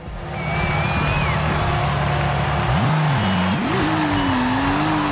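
A drift car in Forza Horizon 5 holds a loud, continuous engine drone with squealing tires on a wide road. The engine pitch dips and climbs again as the car slides through the drift, with no talk over it.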